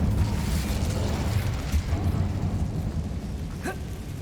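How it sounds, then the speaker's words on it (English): The Incendio fire spell burns in Hogwarts Legacy with a rumbling, crackling roar of flames and low booms that rolls on for several seconds. "불로 태우고 Incendio."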